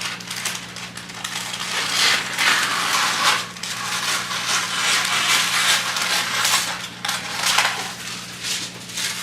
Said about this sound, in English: I'm going to cut this piece of parchment to fit